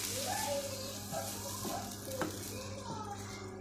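Chopped onion frying in a cup of ghee over medium flame, a steady close sizzle throughout with occasional scrapes and stirring knocks of a spoon against the pan.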